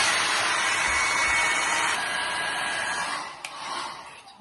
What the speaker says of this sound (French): Du coup, on va prendre le sèche-cheveux pour être sûr.